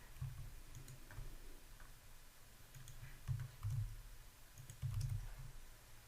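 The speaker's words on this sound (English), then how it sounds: "I can solve for that by typing in the numbers I need" Numbers are typed on a computer keyboard, with quick bursts of soft clicks and brief pauses between them, close and moderately quiet.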